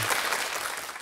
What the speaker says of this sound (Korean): 김현철 센터장님께 마지막으로 박수 한번 부탁드리겠습니다